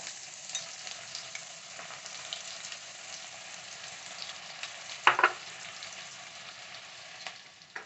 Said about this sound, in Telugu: నూనె బాగా కాగాలండి. కాగిన తర్వాత ఇప్పుడు ఉల్లిపాయ వేసుకుందాం.